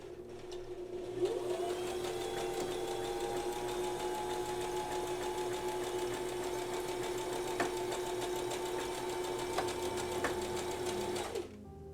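A domestic sewing machine running a buttonhole with the buttonhole foot, a steady loud motor whir with fine rapid stitching texture that holds for about ten seconds before stopping, with no talk over it.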